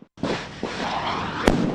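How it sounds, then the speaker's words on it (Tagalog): Booming blasts from cannon fire in a military counter-landing live-fire exercise, a sharp report followed by rolling rumble and a second crack near the end, heard from some distance outdoors. "Samut-saring kanyon din ang pinaputok."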